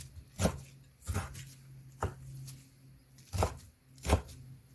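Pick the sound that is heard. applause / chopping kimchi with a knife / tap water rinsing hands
chopping kimchi with a knife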